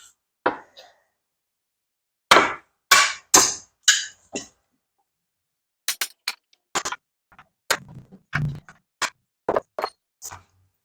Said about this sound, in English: Pound on it with a hammer. And we're just gonna pound them out.